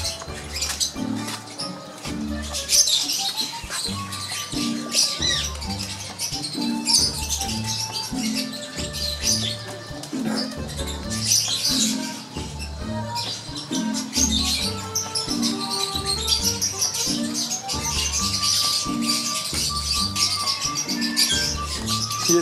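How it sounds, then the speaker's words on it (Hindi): A Teddy breeder pigeon coos in repeated low, soft pulses at a steady rhythm, surrounded by busy chirping and fluttering from other birds in a loft. "मैं आपको दिखाता हूँ अपना ये ब्रीडर कबूतर।"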